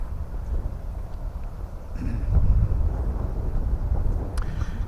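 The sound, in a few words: wind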